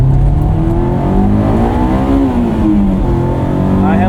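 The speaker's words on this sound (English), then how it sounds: "Good little Sunday morning drive in the S2000" A 2001 Honda S2000 sports car engine hums steadily on a Sunday morning drive, its pitch rising and falling through gentle acceleration, loud and close with constant road and wind noise.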